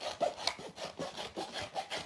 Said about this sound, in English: I'm going to start with using my scissors and just separate my colours